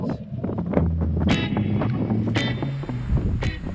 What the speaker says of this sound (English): obviously the sound is going to be awful with the wind